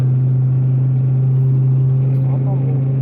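A car's engine runs steadily at idle with a strong low hum and rumble, close and continuous, while people talk quietly.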